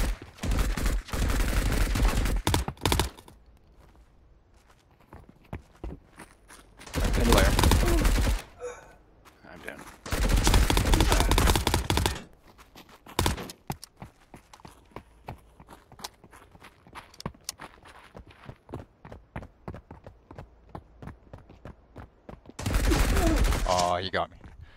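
An enemy strafes with bursts of gunfire in the video game Marauders: several loud, sustained volleys of rapid shots separated by quieter stretches of scattered pops and footsteps.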